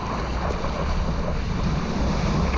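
Ocean waves rolling in at a surf beach, a steady continuous wash of surf mixed with buffeting wind on the microphone, loud and close throughout with no distinct breaks.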